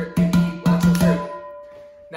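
A cooking pot struck by hand like a djembe drum plays the break pattern, five close, punchy strikes bunched in pairs with a ringing metallic hum that decays into quiet, and one more hit starting at the very end.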